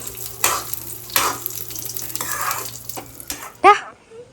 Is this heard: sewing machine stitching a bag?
no